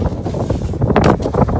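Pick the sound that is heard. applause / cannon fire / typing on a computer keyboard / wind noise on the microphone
wind noise on the microphone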